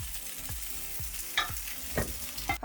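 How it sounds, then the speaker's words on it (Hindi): Tofu fries in hot oil in a wok, giving a steady sizzle punctuated by several sharp scraping stirs of a spatula against the metal, close and fairly loud, with no voices. "टोफू को हल्का हल्का फ्राई करके यूज़ करेंगे"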